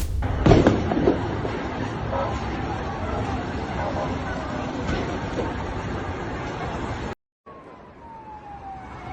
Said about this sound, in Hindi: धमाका और आग कुछ इस प्रकार है आपके सामने।